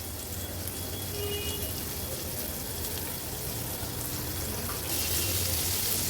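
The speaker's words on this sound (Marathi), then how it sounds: "आता मागच्या बाजूनी पण ह्या कमी तेलावरच तळून घेणार आहोत." Prawns shallow-frying in a little oil for an Agri-Koli style fish thali, a dense continuous sizzle and crackle that holds steady and grows slightly louder near the end.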